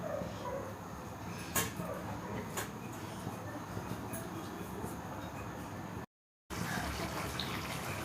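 Chilli chicken gravy bubbles in a pan over raised heat, giving a steady, close hiss and crackle of simmering liquid with a few sharp clinks and a brief dropout near the end.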